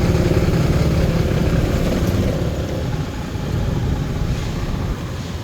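Traffic jam in central Vientiane, Laos, where idling car engines and motorcycles make a loud, continuous, steady rumble that fills the whole stretch without breaks.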